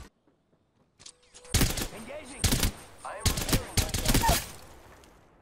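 Gunfire in the video game Apex Legends: after a quiet start, several loud, close automatic bursts crack in quick succession, with short gaps between them.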